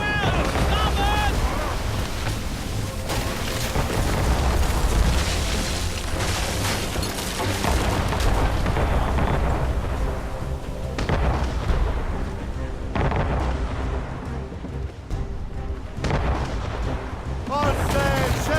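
Ship cannons firing during a naval battle in Assassin's Creed Rogue, deep booms rolling over continuous ocean waves and wind, with shouted crew orders throughout.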